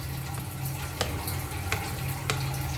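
Cassava cake batter mixed with melted margarine in a bowl: a close, steady wet stirring and sloshing, with soft periodic clicks as the utensil knocks the bowl.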